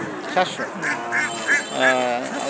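Ducks on a farm of about 700 birds quack repeatedly nearby in a short run of nasal calls, while people talk over them.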